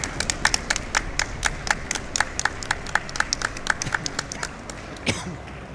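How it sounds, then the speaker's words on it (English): Audience applause at a speedrun charity event, a steady patter of many hands clapping that carries on through the clip and fades slightly toward the end. "so let's get another round of applause,"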